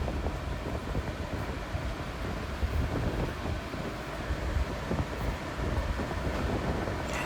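A passenger train running from Kavali toward Ramanathapuram, heard from inside a carriage: a steady, close rumble of wheels and rolling stock with wind noise, continuous throughout with no talk.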